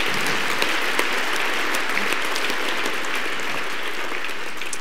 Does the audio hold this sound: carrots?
no